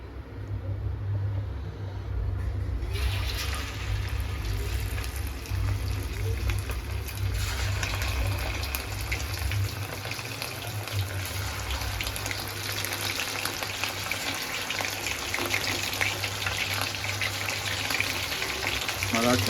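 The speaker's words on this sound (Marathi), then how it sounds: "तर चला कोलंबी तळून घेऊया मस्त" Prawns coated in cornflour batter deep-frying in hot oil, a steady close sizzle and crackle that swells and holds with no break. Speech is faint in the background.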